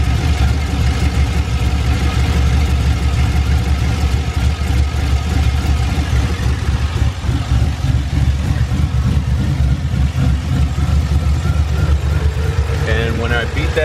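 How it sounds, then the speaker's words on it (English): A Chevrolet Silverado V8 fitted with Flashark Racing shorty headers idles steadily up close, a continuous low rumble with faint injector ticking over the top, with a brief higher whine near the end. "The only thing I do hear is the injectors and, well, of course, the motor, you know,"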